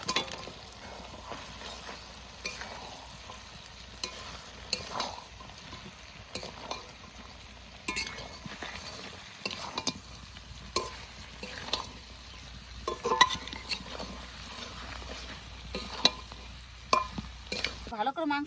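Fried chicken pieces are stirred into spiced masala in a wok, a continuous sizzle with scraping and clinking spoon strokes at an uneven rhythm, close and steady throughout with no talking.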